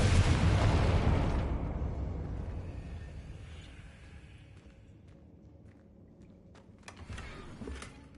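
A Confringo fire spell explodes in Hogwarts Legacy: a loud, broad burst that booms and then fades over several seconds, followed by a few faint clicks and rustles.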